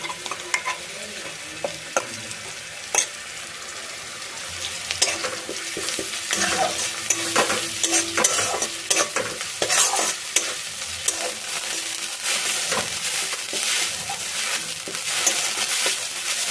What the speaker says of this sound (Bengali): কপি পাতাটা দিয়ে এটা অনেকক্ষণ নাড়াচাড়া করবো, যতক্ষণ এটা একটা শুকনো শুকনো হয়ে যায়।